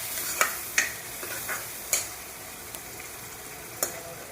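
A spoon scrapes and clinks against a pan while potato curry with chopped tomatoes, coriander powder and garam masala is stirred, giving several sharp taps over a low, steady sizzle.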